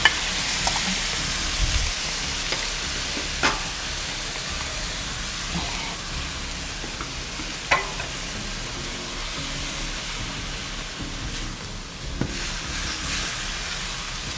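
Shrimp noodles with bean sprouts, udon and sauce are stirred and fried in a pan, giving a soft, even sizzling hiss throughout with occasional light utensil clicks and scrapes, fairly quiet and steady.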